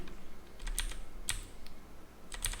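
Light keystrokes tap out a short yarn add command on a computer keyboard, a handful of quiet, irregular clicks close by in a calm room.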